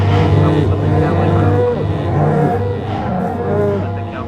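A blocky cow from the video game Minecraft moos in low, drawn-out calls, mixed into steady game music and a talking voice.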